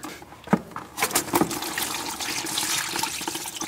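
Engine coolant gushes from a Subaru's loosened lower radiator hose into a catch pan, opening with a sharp splash and then settling into a steady, close, loud pour of liquid.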